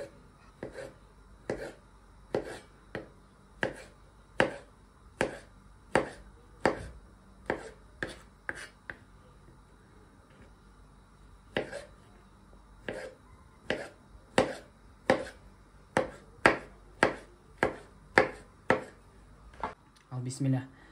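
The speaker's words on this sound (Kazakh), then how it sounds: "Бәрін майда қылып, кубик қылып тураймыз." A knife chops fruit finely into small cubes on a board for a quick honey-and-cream dessert, with crisp, evenly spaced chops that pause briefly midway and then resume, close and clear.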